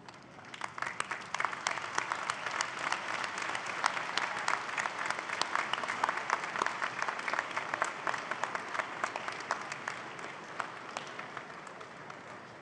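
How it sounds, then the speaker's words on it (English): Graduates at a spring university convocation ceremony turn and applaud their families and friends, a large crowd's sustained, dense clapping that swells and holds steadily, then begins tapering near the end. "give them a warm round of applause for supporting your journey"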